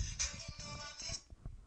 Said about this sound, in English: And then your phone rings.